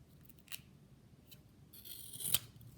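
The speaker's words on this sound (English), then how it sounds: "cut off the excess paper" Scissors snip off excess paper from a glued student ID card in a few quiet, brief cuts with a sharper snip near the end.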